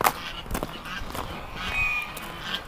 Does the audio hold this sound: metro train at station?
no